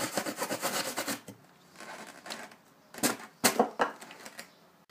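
Fan holes being cut into a plastic cooler, a scraping, rasping run of close cutting strokes, then a quieter pause and a few sharper irregular scrapes and knocks near the end.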